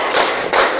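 A classroom of children claps in unison during a morning counting routine, producing a dense burst of many overlapping hand claps, two close volleys in quick succession, loud and near with no talking.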